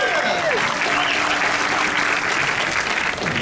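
A crowd claps steadily at a Mayberry Days talent show, a short loud burst of applause with faint voices underneath.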